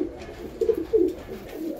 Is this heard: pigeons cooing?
yes